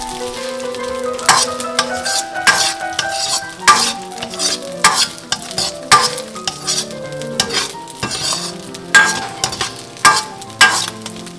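Chinese sausages sear and stir-fry in a hot pan, a steady loud sizzle broken by repeated sharp scrapes and clatters of stirring, with no talking.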